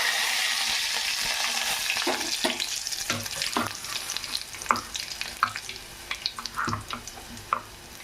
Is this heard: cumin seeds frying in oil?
yes